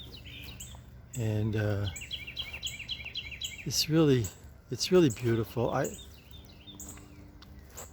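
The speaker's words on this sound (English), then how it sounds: "the birds chirping" Birds chirp and tweet outdoors over a half-acre of grass near a large tree, with bright calls scattered through the clip and a person talking over them.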